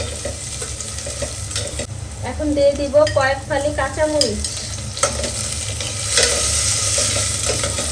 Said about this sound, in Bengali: পেঁয়াজ রসুনটা একটু ব্রাউন কালার হয়ে ভাজা হতে হবে।